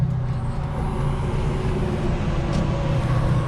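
Duramax diesel pickup truck idling at night beside a Genesis Coupe 3.8, a steady low engine rumble with a constant road drone, close and unbroken.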